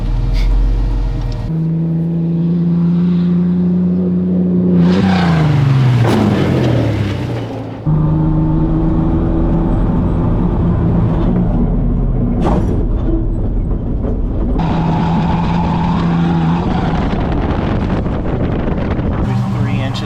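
A prerunner truck drives hard off-road, its engine rumbling loudly with pitch rising and dropping as it climbs and lands jumps, wind buffeting the microphone, with a few brief thumps and a voice talking over parts.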